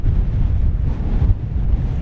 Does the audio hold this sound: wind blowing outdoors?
yes